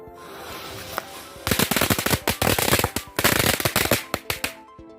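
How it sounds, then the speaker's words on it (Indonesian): A super jumbo butterfly firecracker goes off in a dense, loud burst of rapid crackling pops lasting about three seconds, close up, over faint background hiss before and after. "Petasan kupu-kupu super jumbo."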